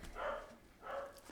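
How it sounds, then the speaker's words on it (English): A dog barks in a few short bursts somewhere in the background, faint and a little distant, with quiet gaps between the barks. "excuse the dog barking"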